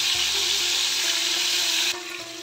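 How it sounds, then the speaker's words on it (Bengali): Loud, steady hissing sizzle of pointed gourd pieces frying in oil over medium heat, close and continuous, dropping slightly in intensity near the end. "উল্টে পাল্টে ভালো করে ভেজে নিতে হবে।"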